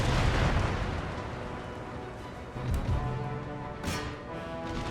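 Cannons fire in the real-time strategy game Empire: Total War, with a muffled battlefield rumble and several deep booms, plus a sharper crack near the end, all heard at a distance without speech.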